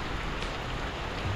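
Heavy rain falls as a dense, steady hiss of drops beating on surfaces, even and unbroken, with no voices.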